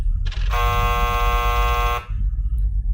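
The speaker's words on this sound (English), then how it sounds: "All we got is a hockey buzzer." A loud, harsh electronic hockey buzzer blares in one continuous blast of about a second and a half over low background rumble, then cuts off.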